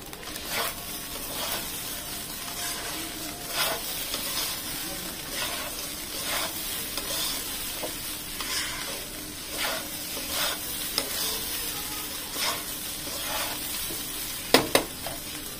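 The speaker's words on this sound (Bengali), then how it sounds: "সবশেষে আমি ভাজা বাদাম অ্যাড করে দিলাম।" Roasted peanuts frying and being stirred in a pan, a steady sizzle with regular scraping strokes of the spatula every second or so, close and moderately loud, with a couple of sharp clinks near the end.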